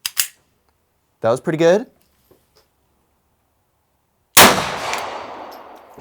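A German GSG 1911 .22 pistol goes off with a single sharp report, followed by a ringing, decaying tail. Brief talk comes a few seconds before the shot.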